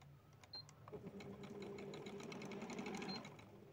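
A simple sewing machine stitching over folded fabric, a quiet steady mechanical whir with rapid needle ticking that builds after a brief start and runs on evenly at close range.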